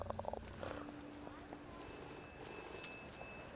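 In the video game We Happy Few, a telephone rings faintly in short repeated bursts amid quiet game ambience, with a voice speaking briefly at the start.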